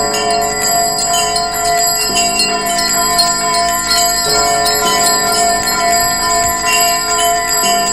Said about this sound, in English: it began to sway and ring, and shortly after it started, did every bell in the house